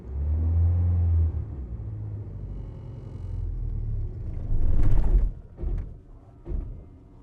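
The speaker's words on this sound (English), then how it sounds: "Let's do a little bit of rev first, and then we'll do higher rev." Ford Ranger engine revved in neutral: a low idling rumble, then a few short throttle blips that rise and fall, close and fairly loud, with no talk.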